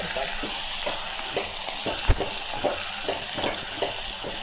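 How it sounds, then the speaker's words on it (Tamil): Drumstick leaves being sautéed in a pan for a horse gram and drumstick leaf stir-fry, giving a steady low sizzle with repeated stirring scrapes and one sharp clatter midway. "கீரை போட்டு நல்லா வதக்கிக்கலாம்"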